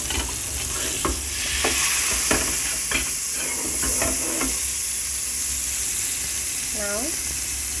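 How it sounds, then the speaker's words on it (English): Butter or margarine sizzles and hisses steadily in a hot pan for tempering, with several light utensil taps and a short voice near the end. "Keep a pan and add the butter to or margarine to the pan."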